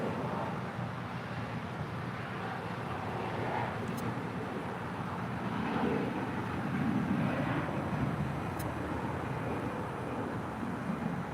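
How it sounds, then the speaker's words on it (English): A 16-year-old Delta Connection CRJ 700 jet departs LAX with a fairly faint, distant, steady jet rumble that swells gently toward the end, heard alone without speech. "This next departure is Delta Connection, flight 3660 departing to Tucson."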